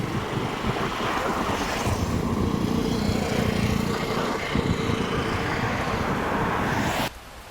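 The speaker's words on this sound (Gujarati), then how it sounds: "તમે પાણી જોઈ રહ્યા છો ફૂલ પાણી જઈ રહ્યું છે" Floodwater of the swollen Shedhi river near Nadiad rushes past in a steady, close broadband roar that runs unbroken for about seven seconds before dropping away abruptly.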